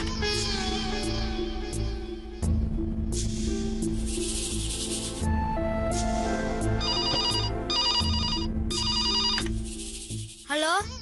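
A telephone rings in repeated bright bursts during a scene from a Tamil TV serial, set against a busy, continuous background of music and other sound.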